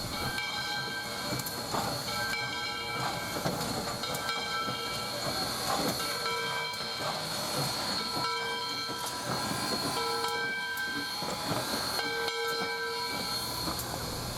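Steam locomotives rumble and hiss steadily as they arrive from the East Chattanooga railroad shops, with sustained whistle-like tones sounding repeatedly over the continuous clatter of railcars.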